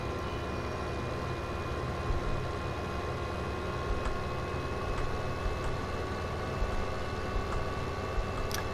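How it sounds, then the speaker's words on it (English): A heavily loaded tractor engine in Farming Simulator 15 holds a steady, even drone with a constant tonal hum and no change in pitch, running alone at moderate level. "Tractor seems to be able to get up to speed, but it's got an awful wander to it with this much weight on it"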